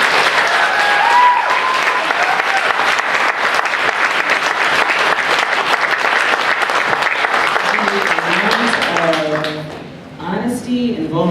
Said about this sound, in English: Can we clap it up for her one more time?